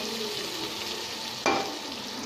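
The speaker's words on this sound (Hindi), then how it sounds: "अब इसे हम थोड़ा ब्राउन होने तक इसे भूजेंगे।" A khichdi masala mixture with garam masala stir-fries in a hot pan, a steady close sizzle broken by one sharp scrape of a spoon near the end, with no voices.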